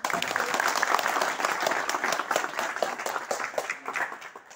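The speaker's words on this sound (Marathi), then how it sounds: "आपण एका जोरदार टाळ्या वाजवून" An audience gives a loud, sustained round of applause at a school talk, a dense wash of many hands clapping steadily throughout.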